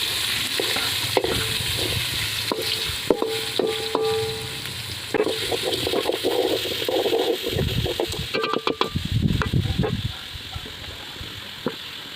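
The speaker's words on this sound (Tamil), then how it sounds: "நறுக்கி வச்சு சின்ன வெங்காயத்தை போட்டுக்கோம்." Chopped shallots crackle and sizzle in oil with soya chunks, spatula scraping and clinking against the pan at intervals, growing into a louder burst of frying toward the end.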